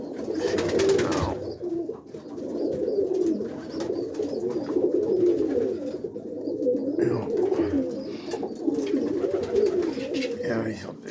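Roller pigeons coo steadily in a loft on a rainy morning, a continuous low murmur of several birds close by, with someone talking over them at times.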